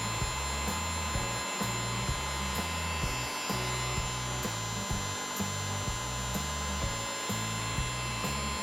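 A heat gun blows with a continuous, even whoosh and hum, heating heat-shrink tubing over soldered stranded wires, with a faint rhythmic pulsing under the airflow and no talk.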